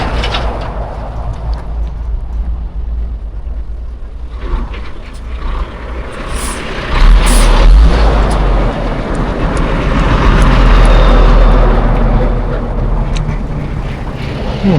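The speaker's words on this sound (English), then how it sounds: "These trucks are coming from Lusaka, guys." Trucks drive past on a road in Kafue, Zambia, with a rising, heavy engine rumble that swells loud mid-way, under general outdoor street noise and faint bird calls.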